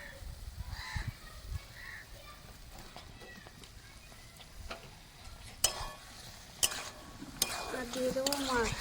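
Taro sizzles in oil with spice paste in a Bengali fish curry, with close scraping and stirring clatters against the pan and soft frying hiss, interrupted by a few sharp knocks, while a person talks faintly in the background.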